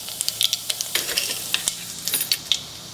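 Mustard seeds crackle and pop in hot cooking oil, a steady sizzle punctuated by sharp, irregular bursts. Close and fairly loud, with no talking.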